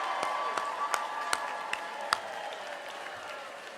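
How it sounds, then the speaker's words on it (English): A room of people at a disability services day gathering at the Capitol applauds care providers, with steady broadband clapping and a few sharper claps standing out, moderately distant. "Why don't we give a round of applause?"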